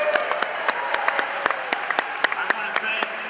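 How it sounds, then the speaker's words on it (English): Applause from the audience at a public scoping hearing on a proposed bulk coal export terminal, a steady wash of many hands clapping with regular sharp claps standing out, moderately loud and continuous throughout. "If you want to give yourselves another big round of applause"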